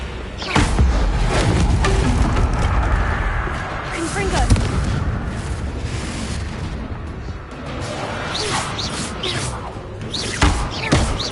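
Explosive spell blasts go off in Hogwarts Legacy on PS5, a dense run of booming impacts and bursts that repeat throughout while a voice calls out over them.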